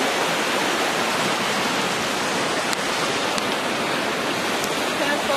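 A noisy river rushes past on a hike, a constant broadband roar of churning water close by, with no other sounds rising above it.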